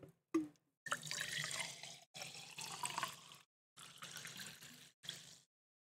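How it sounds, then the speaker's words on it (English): SodaStream sparkling water poured into a homemade mug in several bursts, a splashy fizzing stream that stops and restarts with short pauses, close and fairly loud. "I have my soda stream water today. I'm gonna fill my cup up with it."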